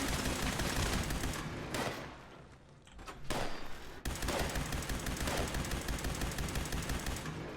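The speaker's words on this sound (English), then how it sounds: "Whoa, turrets! I know that sound all too well." Automated turrets in Fallout 76 firing in rapid, sustained bursts of gunfire, loud and close, with a brief lull in the middle before the rattling volleys resume and keep going.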